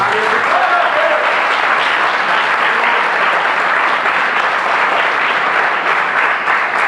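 A church congregation applauds loudly and continuously, a dense wash of many clapping hands that holds at an even level throughout.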